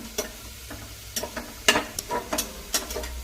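Onions fry in a pan until brown for steamed Kannur kalathappam, heard as a soft sizzle under a series of sharp scraping stirs and clinks at irregular intervals.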